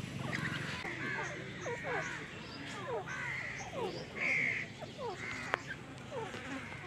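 A crowd of crows and other birds at a wildlife park calls all around, with repeated harsh caws and chattering near and far over a busy buzzing background, while someone speaks faintly in between.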